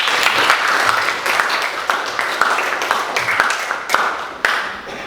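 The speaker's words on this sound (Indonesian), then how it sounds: "terima kasih tepuk tangan" A class of students at an Islamic religious education lesson claps in a lively round of applause, with sharp, uneven individual claps standing out from the group and a few voices mixed in.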